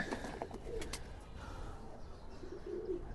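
A pigeon coos softly in a loft, low murmuring calls recurring near the end amid faint rustling and background noise, with no one speaking.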